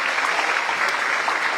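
Audience applause at a regional award ceremony in Guadeloupe honoring high school graduates, a dense, steady clapping from a large crowd that fills the whole moment.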